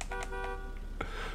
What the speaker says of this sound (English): Standard horn.